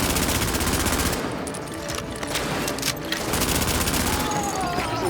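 Heavy automatic gunfire in The Division, sustained bursts of rapid shots with a short lull in the middle before the shooting resumes, loud and close, alone without talk.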